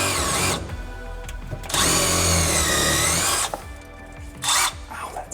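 Power drill spinning up in loud high-pitched bursts of whine, with quieter pauses and handling noises in between, a final short burst near the end.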